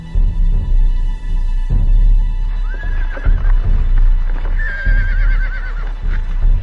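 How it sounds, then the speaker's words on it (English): Wild desert horses at a round well at Garub in Namibia whinny loudly and near, two long neighs standing out over shuffling, clopping hooves and a low rumbling background. "Both sides left their horses behind."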